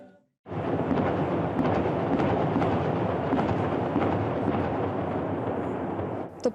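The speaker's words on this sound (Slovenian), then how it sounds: "Topovski streli so pozno popoldne odjeknili po Šaleški dolini." Ceremonial cannon fire at a miners' memorial in Velenje rolls through the Šalešek valley as a long, loud, continuous booming rumble that stays steady for several seconds and cuts off abruptly.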